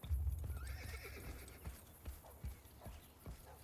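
A horse whinnies loudly at the start, followed by steady clip-clopping hooves against a noisy background in the video game Assassin's Creed Brotherhood.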